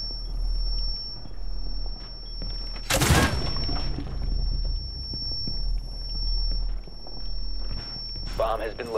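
An airjab detonation in Rainbow Six Siege, a single sharp broadband blast around the third second over steady game ambience, a constant high tone and footsteps, with faint voices.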